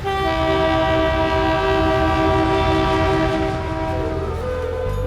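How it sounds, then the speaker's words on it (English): A passenger train in India on the Muzaffarpur to Motihari route sounds a long, loud, steady horn over the rumble of the moving train, the tone shifting near the end. "I finally make it onto my first train journey from Muzaffarpur to Motihari."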